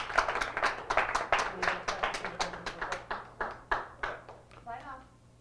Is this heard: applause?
yes